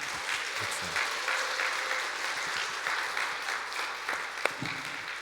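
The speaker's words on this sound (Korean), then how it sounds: "색스폰 팀 위해서 박수 한번 하겠습니다" A church congregation at Sunday worship applauds a saxophone team after a special performance, with sustained, moderately loud clapping and one sharp clap near the end.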